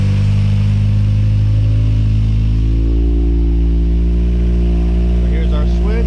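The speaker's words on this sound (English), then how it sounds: "Obviously you guys can hear the car running." A car engine runs steadily at idle close by, a loud, even drone with a strong low hum throughout, heard while a kill switch wired into the car is in the on position.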